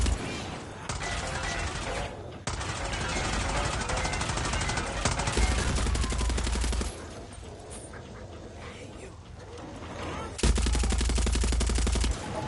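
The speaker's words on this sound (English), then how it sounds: "It's so hard to aim with this machine gun, dude." Rapid machine gun fire from the video game Far Cry 6 crackles in loud, sustained bursts broken by brief pauses, with little or no talk over it.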